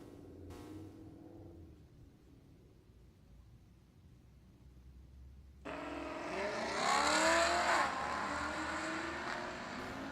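A Dodge Durango and a silver Camaro launch in a drag race, a faint engine whine first, then a sudden loud roar of revving engines that rises and holds.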